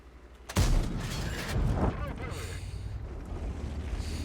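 A single loud, booming tank cannon shot in World of Tanks bursts out, then rumbling and engine noise carry on underneath with some background sound.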